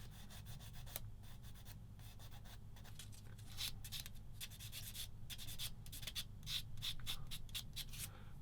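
A sanding sponge rubs over parts of a plastic Tamiya 1/35 SdKfz 222 scale model kit, making a steady, close, soft scratchy rasping with short bursts of quicker strokes. The strokes run continuously with no voices.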